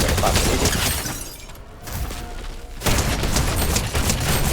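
Video game gunfire, with loud, rapid volleys of shots at the start, a short quieter gap, then another dense stretch of firing.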